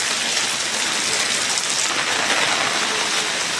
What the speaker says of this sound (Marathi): पावसाने आता जोर पकडलेला आहे भरपूरच